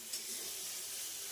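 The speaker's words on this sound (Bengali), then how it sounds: "এই যে আমাদের পেঁপে ভাজা হচ্ছে" Chopped papaya fries in a pan with a continuous, even hiss of sizzling oil, close and fairly faint, with no talking.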